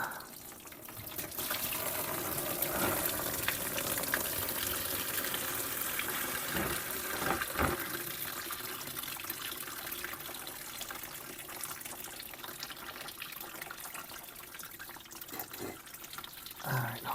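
Coolant drains steadily from the radiator of a 2006 Chevy Colorado, a continuous close splashing trickle into a pan that carries on throughout with a few brief knocks.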